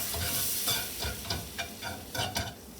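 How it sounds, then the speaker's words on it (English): Flour is whisked into melted butter in a pan over a faint sizzle, with quick rhythmic scraping strokes repeating close by. "put the 1/4 of a cup of flour in here and whisk it up a little bit with the butter"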